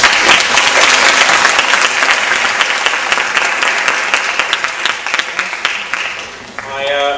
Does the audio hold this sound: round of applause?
yes